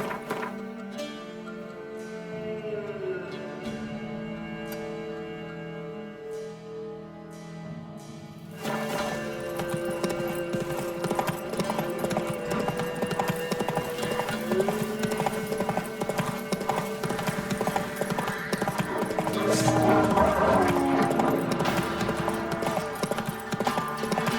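Roach the horse in The Witcher 3 clip-clopping along, a steady rhythmic hoof beat that begins sparse and then runs continuously under a loud game music and ambient bed.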